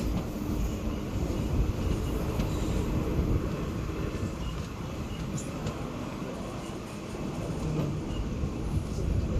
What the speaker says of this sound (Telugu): రాత్రి 8:13 మన ట్రైన్ తిరిగి బయలుదేరింది.